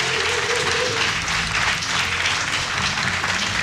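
A loud arena crowd at a StarCraft 2 semifinal in the WCS Europe 2014 season cheers and applauds for ForGG, a dense unbroken roar of clapping and shouting for several seconds.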